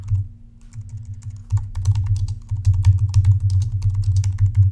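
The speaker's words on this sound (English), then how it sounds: "I'm just typing in Google Insights page speed." Steady typing on a computer keyboard while a Google page-speed search is entered, a continuous run of close, crisp key clicks over a low hum, growing slightly busier toward the end.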